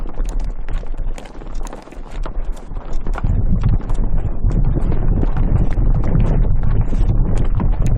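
A herd of wild donkeys walks across dry Central Asian ground, its hooves making a dense, uneven patter of soft thuds under a steady rush of wind and low rumble.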